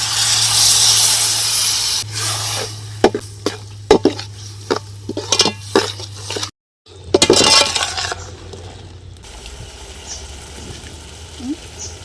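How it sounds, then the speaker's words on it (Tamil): A splash of water hits hot frying masala for village-style dry fish curry, bursting into a loud sizzling hiss, then a spoon stirs and clinks against the pan in sharp, irregular taps as the sizzle dies down. "தண்ணி கொஞ்சமாக ஊற்றிக்கலாம்."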